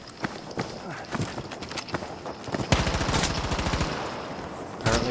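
Rapid gunfire from a MAB 38 submachine gun in a first-person shooter, with scattered shots and then a sustained burst of rapid fire up close, mixed with game noise.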